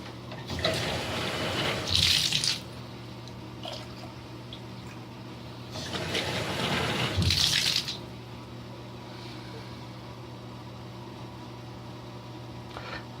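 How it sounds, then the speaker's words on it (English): Water runs into a custom PC cooling reservoir in two bursts of filling, each a few seconds long with a hissy rush. Quieter dripping and trickling fills the gaps, with a low steady hum underneath and no talking. "Looks like I have to fill this thing up completely so I can suck the water through"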